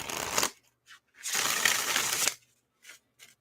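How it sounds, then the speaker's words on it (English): A deck of tarot cards is shuffled in two close, crisp riffling bursts, the second longer, followed by a couple of soft taps as the cards settle, with no talking. "One more shuffle just to make sure I got it right this time."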